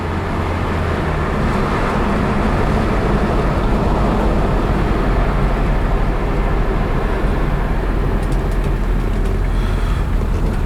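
A 1972 BMW 2002 on a test drive, heard from inside as a constant loud engine and road rumble with steady wind noise throughout, no talking.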